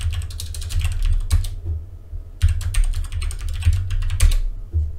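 Keys clatter in quick bursts as a terminal command is typed on a computer keyboard, close and fairly loud, with a short pause in the middle before a second run of tapping.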